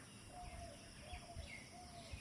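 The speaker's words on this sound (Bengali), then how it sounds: "কত পাখিরা ডাকে" Faint bird chirps and short whistled calls repeat every so often over a steady outdoor hiss, distant and soft, in early morning at an air force area in Jessore.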